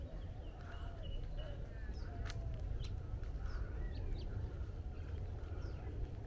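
Near a bin at the Desert Botanical Garden in Phoenix, Arizona, a bird gives several short, harsh, crow-like calls spaced irregularly over a faint outdoor rumble, with soft speech now and then.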